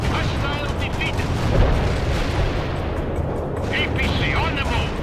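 An armoured personnel carrier returns fire in the World in Conflict real-time strategy game, with dense, rumbling volleys of gunfire and booming explosions filling the scene. Voice callouts sound over the battle.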